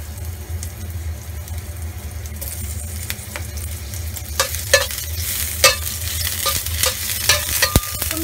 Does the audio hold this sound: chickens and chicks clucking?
no